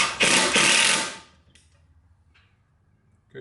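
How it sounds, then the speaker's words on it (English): A power driver sinks screws into a frameless upper cabinet during assembly, giving one loud, close whirring burst of about a second, then quiet with faint ticks and a brief final buzz. "I think it'd just be better to put the screws in now."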